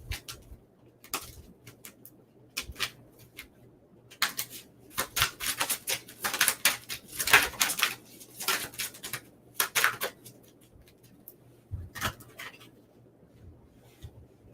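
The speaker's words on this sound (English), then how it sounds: "Hold on, let me pull some more cards." Tarot cards are shuffled and pulled from a deck: close, rapid clattering riffles and flicks come in uneven bursts, thickest in the middle stretch, with brief pauses between and no talking.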